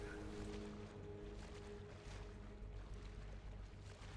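Paddling a boat in the VR game Phantom: Covert Ops gives a faint, steady wash of water and splashing that runs evenly and quietly with no clear strokes standing out.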